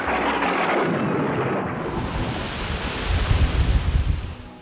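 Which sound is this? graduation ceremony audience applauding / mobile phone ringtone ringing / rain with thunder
rain with thunder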